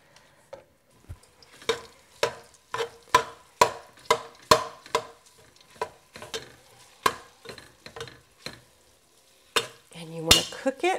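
Vegan chorizo stirred and frying in hot vegetable oil in a pot, with steady close sizzling broken by regular scraping strokes of a spoon against the pot bottom.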